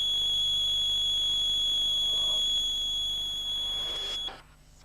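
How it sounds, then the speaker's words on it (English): A steady, high-pitched electronic warning buzzer on a New Holland FX Series forage harvester drones continuously, then cuts off near the end, leaving a quiet background. "the warning light will start flashing and the buzzer will sound"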